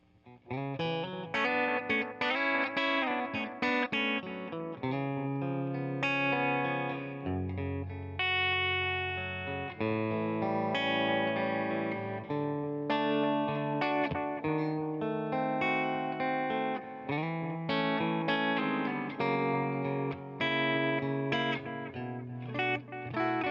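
An electric guitar plays melodic lines through an Old School FX Miss Turpentine analog bucket-brigade delay pedal, notes trailing into soft, warm repeats, steady and continuous with no talking.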